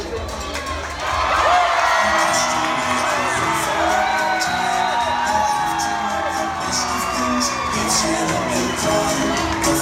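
A crowd at a fair pig race cheers and whoops as the race begins, with a loud, sustained roar of mixed shouts and high yells swelling after the first second and continuing throughout.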